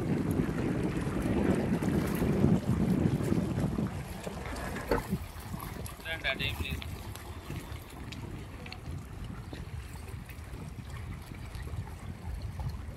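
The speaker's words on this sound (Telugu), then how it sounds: "అక్కడ వాటర్ వచ్చేసి ఒడ్డుకి కొట్టుకుంటాయి కదా, దాని సౌండ్ చాలా రిలాక్సింగ్ ఉంటుంది" Lake water laps against the shore at a temple outing spot near Siddipet, a steady low wash heavy with wind buffeting the microphone, louder for the first few seconds and then easing into a softer, continuous rush.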